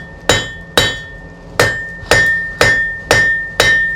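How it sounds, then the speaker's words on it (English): A blacksmith's hammer strikes hot metal on an anvil while forging a square point. Seven sharp, ringing blows land at a steady rhythm, close and loud, each one decaying briefly before the next. "I'm bringing the hammer down in a wedge shape"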